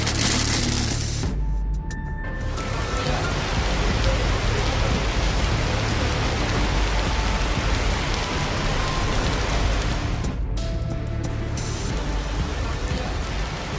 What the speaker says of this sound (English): the rain comes down in a solid wall and you can see a fairly clear edge of the rain